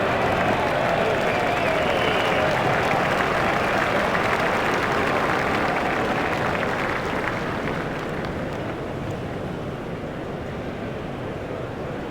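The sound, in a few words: crowd applauding a shot in video game Cricket 07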